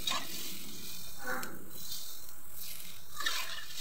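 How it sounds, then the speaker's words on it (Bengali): Spices with turmeric being stirred in a hot frying pan, a soft sizzle with a few scraping, swishing strokes of the spoon that come and go at close range. "হলুদ গুঁড়া দিয়ে ভালোভাবে এবার নেড়ে নিব।"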